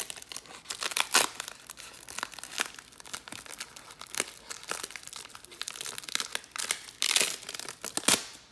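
A 1990 Upper Deck baseball card pack being torn open close up: loud, irregular foil crinkling and ripping in repeated bursts, with no talking.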